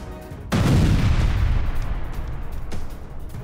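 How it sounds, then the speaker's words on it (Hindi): Explosives bring down a Hamas building in Jenin: a sudden deep boom erupts after a brief lull and rolls into a long, heavy rumble, with a fainter second thump a couple of seconds later and no voices. "ये देखिए आईडीएफ ने हमास की इमारत को उड़ा दिया, विस्फोटक के जरिए इमारत जमीन दोज"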